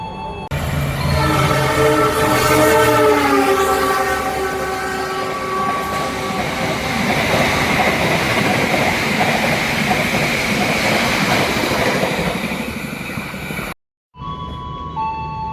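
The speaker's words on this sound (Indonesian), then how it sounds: "Taksaka melintas langsung di stasiun Kutoarjo." The Taksaka express train roars through Kutoarjo station in Indonesia at close range without stopping, a horn sounding early over the heavy rumble and rattling wheels, then the noise cuts out abruptly near the end.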